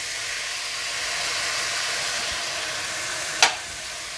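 Mutton sizzles with masala in a pan while cooking dabba gosht: a steady, even frying hiss runs throughout, with one sharp click near the end.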